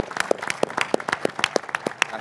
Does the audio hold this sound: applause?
yes